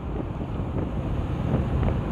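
Steady wind buffets the microphone while riding a motorbike in poor condition on a road past heavy construction, a continuous low rushing roar with slight surges throughout, no voices.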